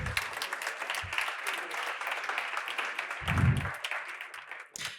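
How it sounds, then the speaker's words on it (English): Audience applause at a startup showcase event, a dense, even burst of clapping from a seated crowd that carries on for several seconds before tapering off, with a couple of low thumps partway through. "please give them a big round of applause"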